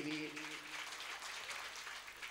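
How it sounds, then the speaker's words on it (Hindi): Applause from the audience at a live Shrimad Bhagwat Katha religious gathering, a steady broadband patter lasting a couple of seconds after a brief voice at the start, moderately loud throughout. "एक बार जोरदार तालियां इनके लिए भी।"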